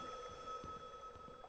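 A telephone rings faintly in a game set among wet, liminal architecture, a thin steady tone under dripping and soft background noise.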